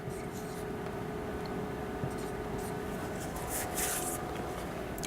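A pen or marker writing a Taylor series remainder by hand, a steady faint scratching under a continuous background hum, with a soft voice nearby.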